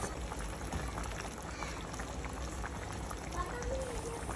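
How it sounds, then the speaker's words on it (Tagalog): A pot of pork sinigang soup bubbles at a steady boil, a continuous dense simmering hiss with small pops, recorded close up. "nung kumukulo na nga yung ating sinigang"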